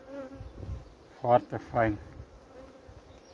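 A colony of red-queen honey bees hums and buzzes around an opened hive, with a couple of louder buzzing bursts close by while a voice speaks briefly over them.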